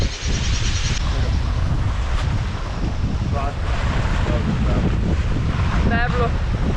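A sailboat sails in the wind on Colombian waters, with constant roaring wind buffeting the microphone and rushing water along the hull, loud and unbroken, and faint squeaky chirps briefly cutting through.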